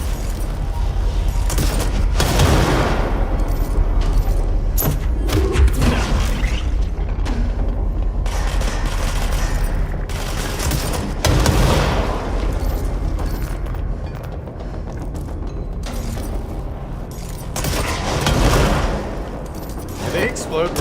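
Sticky bombs shot in the video game Control detonate in a dense run of loud, booming explosions with gunfire-like crackle, swelling in several heavy waves over about twenty seconds.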